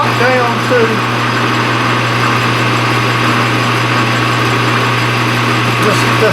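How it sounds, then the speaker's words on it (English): A metal lathe turns down a piece of steel stock, giving a steady droning motor hum with a low constant tone and faint cutting noise, with a voice speaking briefly over it near the start. "right now I've got a piece of stock in the lathe here"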